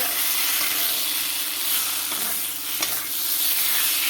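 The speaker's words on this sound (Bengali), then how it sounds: "মশলার সাথে একসাথে আলুগুলোও দিয়ে দিলাম" Potatoes sizzle in hot oil with spice masala, stirred steadily in a pan, a loud continuous frying hiss with occasional scraping strokes of the spoon close by.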